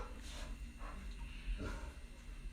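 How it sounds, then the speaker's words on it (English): A pet dog barks and yips indoors, a few short, fairly faint bursts spread over a couple of seconds against a steady room hum. "you're hearing my dog right now."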